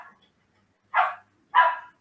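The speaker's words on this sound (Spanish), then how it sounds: "si se escucha mi perro ladrando," A pet dog barks in a house, with two sharp, mid-pitched barks about half a second apart, preceded by the tail of an earlier bark, all fairly close and heard alone against silence.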